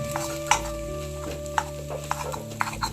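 Aloo-begun bharta being mashed and stirred in a pan over a very low flame, giving soft irregular squelching and scraping strokes with a few sharper taps against a steady low hum.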